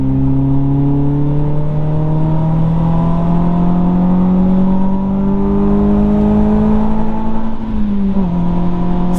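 A naturally aspirated Renault Clio 2 RS engine revs loudly from inside the car while driving, its tone rising steadily through the rev range before dropping briefly on a shift and picking up again.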